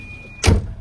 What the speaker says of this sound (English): typical 240, you just have the gunshot door open and close sound